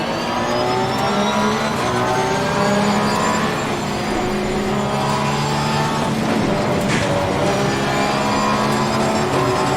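Race cars accelerate hard off the start at Monza in Assetto Corsa Competizione, a dense, continuous roar of several engines revving and climbing through the gears at close range.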